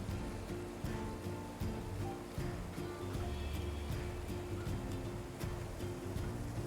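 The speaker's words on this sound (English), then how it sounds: "Man, I love the sound of a rushing river." Steady broadband rush of a river flowing near a wild campsite, continuous and fairly close, with faint low rumbling underneath and no voices.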